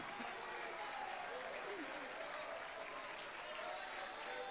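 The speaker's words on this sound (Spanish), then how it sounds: "Paren los aplausos, hermano." A church congregation applauds in a steady, continuous wash of clapping, fairly quiet and distant, with faint voices mixed in.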